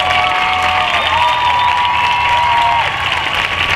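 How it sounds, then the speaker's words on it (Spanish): A concert audience claps for a municipal music band in a steady, dense wash of applause, with sustained tonal sounds running underneath throughout. "Y también un fuerte aplauso, por favor, para Dolores Martín"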